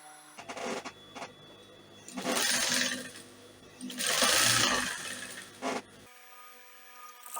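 Domestic sewing machine stitching a dart on an off-shoulder princess-dart blouse, running in two longer bursts and several short ones, mid-distance and moderately loud, with no talking.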